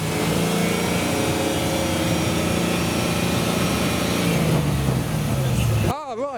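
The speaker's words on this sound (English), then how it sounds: "The E36 has a V8 and has been doing a noise test." A BMW E36 with a swapped LS Corvette V8 revs at a car show. The engine holds a loud, steady drone for several seconds, with pitch sweeps as the revs rise and fall, then cuts off abruptly.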